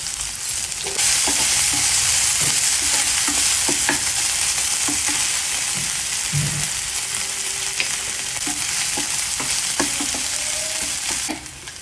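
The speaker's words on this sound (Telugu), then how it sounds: "దంచుకున్న అల్లం వెల్లుల్లి, పచ్చిమిర్చి వేసుకుని కొంచెం ఫ్రై చేసుకోవాలి" Coarsely crushed ginger, garlic and green chillies fry in hot oil with a loud, steady sizzle, and a spoon stirs them with frequent small scrapes and taps.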